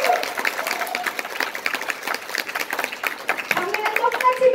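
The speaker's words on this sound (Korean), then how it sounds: "박수 한번 쳐주세요." Lecture audience clapping in a room, a fairly close, uneven patter of hands lasting several seconds, with a few voices and tonal calls mixed in.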